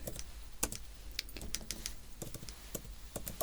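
Someone types steadily on a computer keyboard during an eye-exam roleplay, an irregular run of close, crisp key clicks with brief pauses and no talking.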